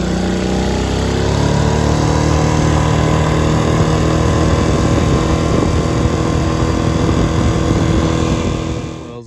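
A Hangkai 6.5 hp outboard boat motor runs loudly and steadily nearby on a river, a constant buzzing engine drone that cuts off abruptly at the end.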